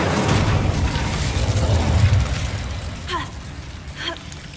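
A fire spell cast in Hogwarts Legacy bursts out as a loud whooshing boom with rumbling low end through the first two seconds, followed by two short brighter magical flares near the end.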